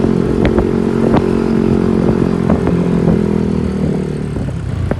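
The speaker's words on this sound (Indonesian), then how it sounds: "ini kita riding ya, pakai motor" A motorcycle engine runs steadily and loudly throughout a ride from Bandung to Dusun Bambu in Lembang, with a constant drone and a few brief clattering ticks on top.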